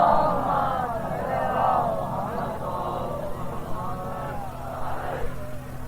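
A crowd at a Shia mourning majlis recites salawat in unison, a loud rolling chorus of many voices rising and falling over a few seconds.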